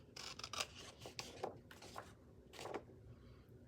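Scissors snip paper pieces for a mosaic craft, a quiet series of close, crisp cuts and rustles in an irregular rhythm, with no voices.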